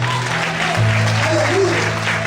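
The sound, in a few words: congregation applauding in church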